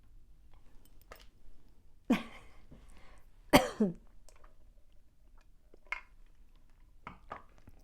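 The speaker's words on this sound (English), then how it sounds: "I just feel like I'm on the verge of a cough attack" Several sharp, dry coughs break a quiet room, spaced irregularly, with a couple of smaller throat-clearing sounds and clicks in between.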